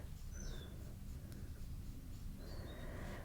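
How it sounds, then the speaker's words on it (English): Wild birds chirp outdoors near a freshly refilled bird feeder, heard faintly from indoors as a few brief, distant calls over a quiet background hiss. "I just refilled my bird feeder yesterday, so I can hear some more chirping outside than usual."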